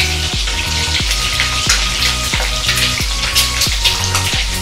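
Egg frying in a hot pan with a pinch of turmeric in a student room, a loud close crackling sizzle under a regular repeating low thump, steady throughout with no voices.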